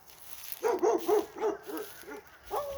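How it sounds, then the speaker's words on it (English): Several dogs bark from behind a residential property line, giving a run of about six hoarse, mid-pitched barks at moderate distance in an uneven rhythm, with no one talking. "They hadn't barked at me until I came back here."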